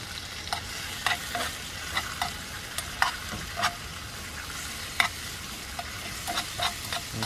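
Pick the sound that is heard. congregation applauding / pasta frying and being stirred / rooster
pasta frying and being stirred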